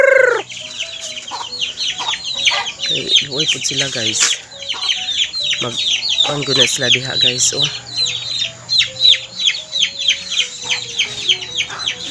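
A flock of chickens clucks continuously nearby, with rapid overlapping calls, while someone talks over them at times.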